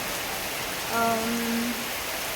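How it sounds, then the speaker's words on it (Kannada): Heavy rain pours down outside a home, a steady, dense hiss that fills the whole stretch, with a brief tonal sound rising briefly in the middle. "ಇವಾಗ ನೋಡಿದರೆ ಮಳೆ ತುಂಬ ಜೋರಾಗಿ ಬರ್ತಾ ಇದೆ"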